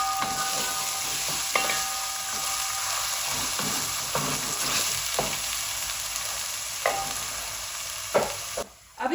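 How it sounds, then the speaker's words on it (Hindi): Ginger-garlic paste and green onion frying in a pan, a steady hiss and sizzle with occasional stirring scrapes and clinks, close and fairly quiet with no talking. "अब इसमें मैं डाल दूंगी अदरक लहसुन का पेस्ट। अब यहाँ पे साथ ही प्याज ग्रीन डाल देंगे।"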